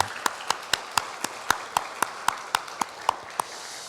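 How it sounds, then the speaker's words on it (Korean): Slow, evenly spaced rhythmic clapping of about a dozen claps from a Sunday church congregation honoring its elders, crisp and moderately close with a quiet room in between. "우리 모두가 감사하는 마음으로 박수로 마음을 전하겠습니다"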